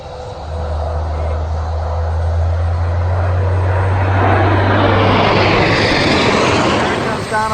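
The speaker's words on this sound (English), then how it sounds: "Look at those jets with the colors red, white, and blue of France and the United States. Oh, they're coming right overhead." Jets painted in the red, white and blue of France and the United States roar overhead, a low drone swelling into a loud, broad rushing roar that peaks and fades, at a D-Day commemoration.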